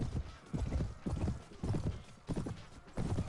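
Galloping horse hooves in a Mount and Blade cavalry charge, with rapid clip-clop bursts in repeated waves and an occasional whinny, loud and close throughout.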